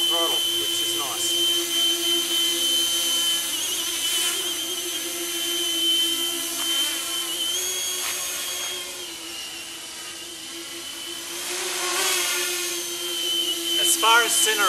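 An experimental thrust-vectoring RC multicopter hovers at just over half throttle, giving a steady, loud whining buzz of electric motors and propellers with a high tonal whistle that swells and fades slightly, with no talk.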